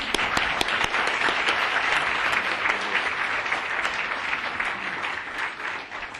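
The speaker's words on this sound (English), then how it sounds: "let's also clap for our departing panelists" Audience applause for departing panelists at a panel discussion on the Saddam Hussein Dujail trial, sustained many-handed clapping with a few sharper claps standing out, fairly close and steady.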